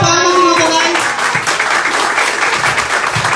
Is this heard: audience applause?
yes